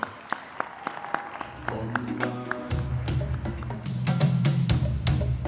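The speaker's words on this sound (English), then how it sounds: "A round of applause as they draw to the stage." Scattered claps build into steady applause from a crowd at a Ghanaian music awards ceremony, with drums and music rising underneath and growing louder toward the end.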